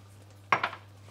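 A spoon stirs a seasoned mixture that is coming to a boil in a pot, giving two or three quick metallic clinks and scrapes that stand alone over quiet room noise.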